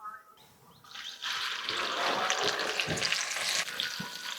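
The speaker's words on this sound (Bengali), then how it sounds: "একসঙ্গে দেখুন অনেকগুলো ভাজা হয়ে যাচ্ছে" Lentils deep frying in hot oil for dal chanachur, a quiet start giving way to a loud, dense bubbling sizzle with crackles, close and continuous.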